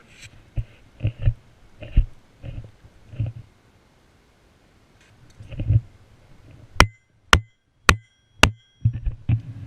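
Dull thuds and knocks repeat irregularly, then four sharp, ringing metallic strikes land at a steady rhythm before softer knocks resume.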